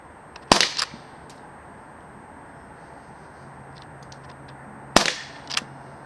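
Two sharp, crisp shots from an Umarex Canex CO2 air rifle fired from a rest at a target, about four and a half seconds apart, each followed by a brief rattle, with near silence between.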